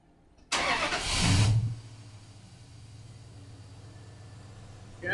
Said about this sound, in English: I'm going to go start it up and rev it up a little bit.